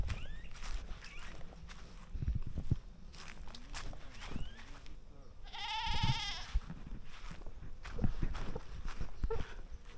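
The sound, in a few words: goats bleating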